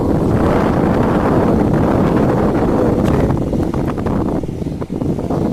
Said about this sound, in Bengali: ঝিরিঝিরি বৃষ্টি, মাঝে মাঝে দমকা বাতাস।